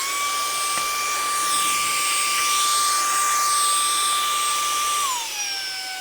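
A HOTO Compressed Air Capsule electric air blower whines loudly and steadily at a high pitch, jet-engine-like, then its tone drops as it winds down near the end. No talking.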